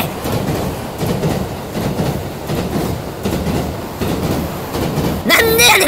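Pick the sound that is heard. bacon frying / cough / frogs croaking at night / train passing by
train passing by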